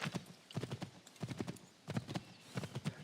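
Horse hooves in Assassin's Creed III clip-clop in a steady galloping rhythm, quiet and close, in repeated groups of beats with brief gaps between them.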